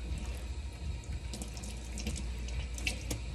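A wig is rinsed in a sink of soapy water, with a steady stream of running and splashing water and scattered drips, heard close and alone without speech.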